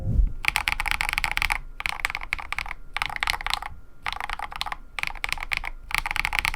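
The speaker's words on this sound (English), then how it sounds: "Here's how the keyboard sounds" Continuous clacky typing on a Gamakay LK67 mechanical keyboard in quick bursts with short pauses between, close and fairly loud, with a hollow, clattery tone and no voices.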